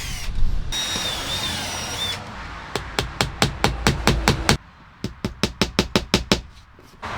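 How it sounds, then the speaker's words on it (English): A power drill bores pilot holes into van wall board: close, sharp bursts in two quick runs of a dozen or so pulses, separated by a short pause and preceded by a steadier grinding whir. "Then you're going to drill your pilot holes."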